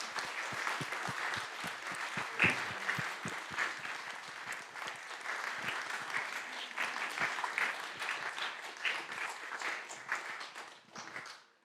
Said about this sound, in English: I propose a big applause for Jan Pronk.